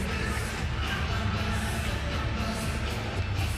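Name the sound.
boxing arena crowd cheering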